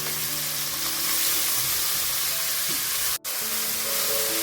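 Garlic ginger paste sizzles and fries steadily in hot oil in a pan, a dense continuous crackle that cuts out for a split second near the end before resuming.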